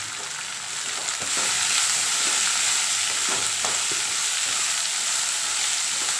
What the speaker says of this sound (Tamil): பாருங்கள், வெங்காயம் நல்லா வதங்கிச்சுங்க.